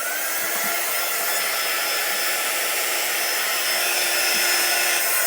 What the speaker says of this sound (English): grab my dryer so that we can dry this